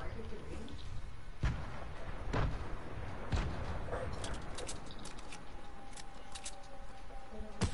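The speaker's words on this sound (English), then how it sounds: "I'm gonna throw more nades." Grenade blasts in a video game sound as three or four sharp, deep thumps spaced about a second apart, followed by scattered crackling bursts, all under a continuous busy game soundscape.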